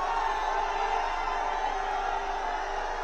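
A large crowd roars outside the airport for Team India's arrival, a steady, distant wall of cheering and whooping that holds evenly without breaks.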